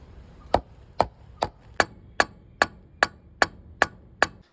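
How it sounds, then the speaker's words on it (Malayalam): A hammer drives a concrete nail into steel spoons with ten evenly spaced, sharp metallic strikes about half a second apart, each close and loud with a short ringing decay and no voices. "രണ്ട് സ്പൂണും കോൺക്രീറ്റ് ആണി വെച്ച് അടിച്ച് ഹോൾ ഇട്ടിട്ടുണ്ട്"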